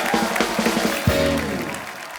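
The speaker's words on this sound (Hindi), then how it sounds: "एक बार अक्षय पाजी, इलियाना और ईशा के लिए जोरदार तालियां" Studio audience applause on a televised Hindi comedy show, honoring actors on stage: a short burst of clapping mixed with crowd noise and a tonal background sound.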